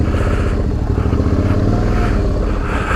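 Suzuki V-Strom DL650 motorcycle engine idling low and steady while the rider slips the clutch, a close, continuous rumbling putter with faint clattering and no talk.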